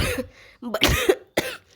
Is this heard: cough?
yes